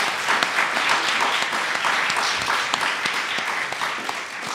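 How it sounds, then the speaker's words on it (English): Audience applause for the panelists at an evening legal society panel event, a steady dense clapping from a room full of people that holds at an even level throughout with no talk over it. "I think they all deserve a round of applause."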